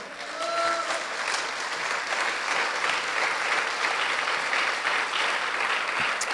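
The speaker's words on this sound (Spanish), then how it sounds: "démosle fuertes palmas al Señor" A church congregation claps loudly and steadily in a dense, continuous burst of applause that fills the room, with no words spoken over it.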